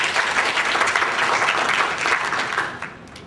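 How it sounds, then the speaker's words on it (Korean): A conference audience at a forum on Asian global leadership gives strong, even applause to welcome a speaker, which fades out over the final moments. "큰 박수로 이영기 박사님을 환영해 주시겠습니다."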